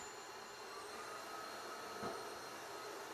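A mop vacuum cleaner runs on its turbo setting in a home, giving a steady whirring drone at low level throughout with one brief bump partway, and nobody speaking.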